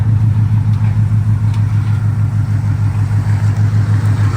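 A 1997 Ford Expedition with a swapped Coyote engine idling close by as it comes off a trailer, a loud steady low rumble with a regular pulsing throb and no voices.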